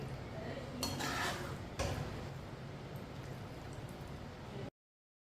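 A metal spoon clinks and scrapes against a pot and plate while turnip curry is served, a few bright taps early on, then a quieter kitchen background.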